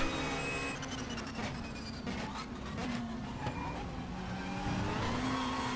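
1992 British Touring Car Championship cars, including a Vauxhall and Nissans, racing at Donington Park National in Race 07, a steady blend of revving engines and tyre noise at moderate level throughout.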